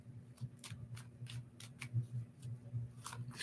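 A deck of cards is shuffled, giving quick crisp riffling bursts in an irregular rhythm, close and fairly quiet against a low background hum.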